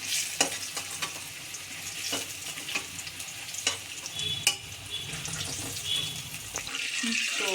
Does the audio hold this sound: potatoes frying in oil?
yes